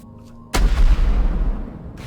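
A single heavy video game cannon blast booms suddenly after a quiet moment, its deep rumble rolling on and slowly fading.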